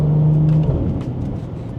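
Engine drone from inside a BMW 340i with the B58 straight-six, heard at night from the driver's seat. The low hum is steady and loud, with a brief tonal whine early on, then it eases as the gears change.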